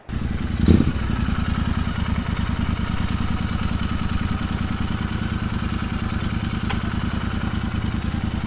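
A Royal Enfield GT 650 motorcycle fitted with an aftermarket Mity Mike Customs muffler idles with a steady, loud, low thumping exhaust pulse, nearby and continuous, with a brief blip at the start.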